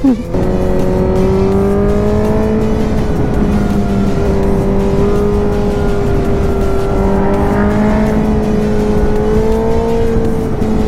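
A 1000cc motorcycle under full throttle gives a loud, continuous engine roar whose pitch climbs steadily with slight dips at gear shifts, close and dominant over wind rush, with no clear talking.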